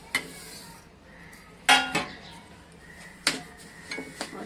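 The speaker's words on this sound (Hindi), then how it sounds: "अब हम इसमें एक पिंच इलायची पाउडर डाल देते हैं और ये तिल भी डाल देते हैं" Sesame seeds and a pinch of cardamom powder being stirred into melted sugar in a pan for til papdi, giving a few distinct metallic scrapes and clinks of a spoon against the pan, spaced out over a quiet background.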